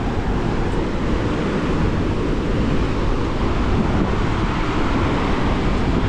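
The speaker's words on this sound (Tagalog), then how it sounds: "Ang lakas ng alon, nagagalit oh, nangangalit yung alon." Heavy surf crashes and churns along the shore at Nasugbu, Batangas, producing a dense, unbroken roar of water and wind that holds steady, loud and near, throughout, with no one speaking.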